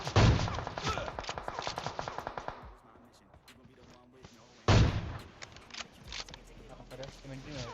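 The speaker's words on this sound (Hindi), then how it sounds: "लेकिन कोई और गोली चलाने लग जाता है।" Rapid bursts of automatic gunfire in the video game PUBG Mobile, loud and close, stopping for a quiet stretch before another burst; a voice talks underneath.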